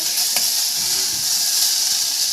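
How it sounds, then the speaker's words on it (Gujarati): Potato frying in hot oil for a tempering while cooking peanut potato khichdi: a steady, loud broadband sizzle throughout, with a few brief stirring clicks and no talk. "બસ તો બટેટું હવે તેલમાં ફ્રાય થઈ ગયું છે."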